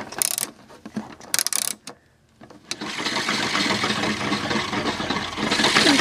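An Our Generation toy washing machine's plastic dial is turned, giving a run of sharp ratcheting clicks followed by a continuous close whirring noise.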